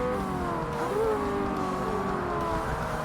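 A Ferrari 360 Modena racing car engine in Forza Motorsport over-revs hard and steadily, its pitch climbing and wavering in a continuous, loud drone with no pauses.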